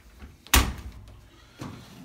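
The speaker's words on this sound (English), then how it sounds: "So let's close the door." A Speed Queen tumble dryer door swings shut with a single firm thud, fairly close, followed by a softer knock about a second later.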